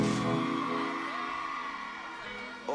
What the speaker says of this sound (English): All my beautiful ladies, can you scream for me, please?